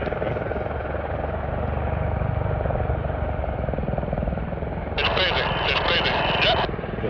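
Formation of military helicopters at an air show flying past, with a continuous loud rotor and engine roar throughout and a brighter whine swelling near the end, heard under talk.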